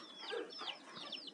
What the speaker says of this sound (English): a simple brooder with the mother hen and its chicks